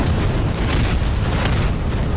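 Deep, sustained rumbling boom from a rocket launcher blast in the first-person shooter MOTHERGUNSHIP, a dense wall of low roar lasting throughout without letup.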